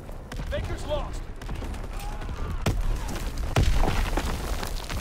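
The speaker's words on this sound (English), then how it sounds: "Incoming enemy artillery." Incoming enemy artillery and scattered gunfire in a Call of Duty WWII battle, with booming impacts and sharp shots landing near and far, under radio-style voices and player chatter.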